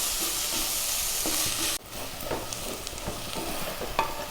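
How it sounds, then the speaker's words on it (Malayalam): Sliced onions fry and are stirred in a pan while cooking for North Indian sukha chicken, a steady close sizzle with a brief scrape, then softer frying with intermittent stirring clinks. "ഇപ്പോൾ ഇതാ നമ്മളെ സവാള അത്യാവശ്യം ബ്രൗൺ ആയിട്ട് വന്നിട്ടുണ്ട്. സവാള നന്നായിട്ട് വഴന്ന് വന്നിട്ടുണ്ട്."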